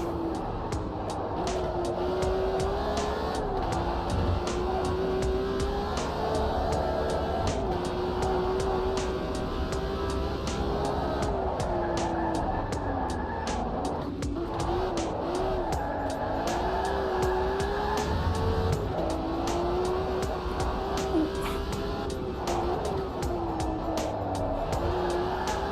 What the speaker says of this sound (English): the way this car handles, it just encourages you to absolutely throttle it